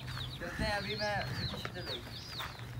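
Chickens cluck and squawk nearby in a busy, overlapping chorus, with bright rising calls over a low background hum.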